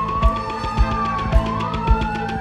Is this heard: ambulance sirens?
yes